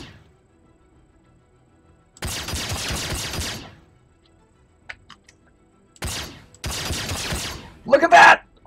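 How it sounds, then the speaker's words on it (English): An ELO 2587 laser pistol fires in Star Citizen's Arena Commander space combat game, in rapid-fire bursts of loud, crackling shots: one long volley, a short burst, another long volley and a final harsh blast, with near silence between. "Oh, my laser pistol destroyed it!"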